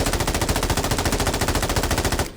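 Rapid automatic gunfire in the video game Warzone, a loud, steady burst of closely spaced shots running for about two seconds before cutting off abruptly.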